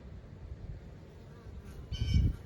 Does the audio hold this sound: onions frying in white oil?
no